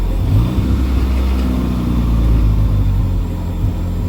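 A 1989 Chrysler LeBaron GTC Turbo engine running loud and close, a steady low rumble with a slight rise and fall in revs throughout, no voices over it.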